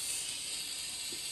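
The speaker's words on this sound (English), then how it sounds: "I'm gonna boil the fish." A continuous steamy hiss of fish boiling in the game Toca Kitchen, even and unbroken, close and steady throughout.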